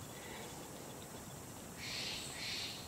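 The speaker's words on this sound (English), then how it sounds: "Can you hear the jay in the background?" A jay calls twice in a forest, a pair of harsh, raspy cries coming from a distance over a steady hiss of background noise, with no talking.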